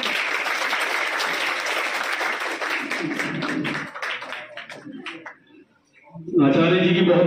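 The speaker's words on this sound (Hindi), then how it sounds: "जोरदार तालियां एक बार" Loud audience applause at an Arya Samaj temple ceremony during an annual celebration, dense clapping that thins out into scattered claps and a near pause, then surges back strongly at the end.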